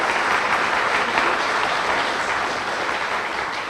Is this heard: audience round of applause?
yes